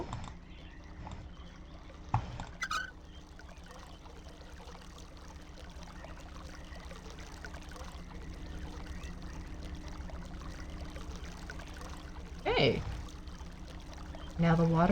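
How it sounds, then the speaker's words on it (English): Water flows continuously in the Myst video game, a soft, steady stream and trickle heard at a low level, with a few brief clunks and a person speaking briefly over it. "Now the water is flowing."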